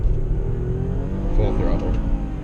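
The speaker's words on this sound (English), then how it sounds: "Here's first gear. We'll ring her out." 2006 Toyota Avalon engine revving hard in first gear, a loud rising engine drone from inside the car, with someone talking over it.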